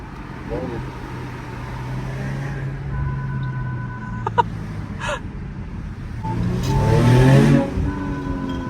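Hyundai Avante N car engine revving loudly from inside the cabin, a steady drone that climbs into a sharp rising rev near the end, with people talking and laughing over it.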